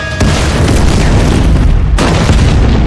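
Loud explosion of a bouncing bomb in a Jackie Chan action film, Vanguard: a heavy, sustained blast that fills the whole clip, with a second burst hitting near the end.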